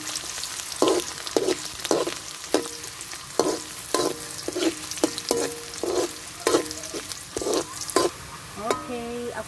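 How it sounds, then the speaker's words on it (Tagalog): Onion and garlic sautéing in a pan for a ground beef torta, a steady low sizzle punctuated by repeated utensil scrapes and stirring clacks at a fairly regular pace, close by with no talking. "First, we have to saute the onion and garlic"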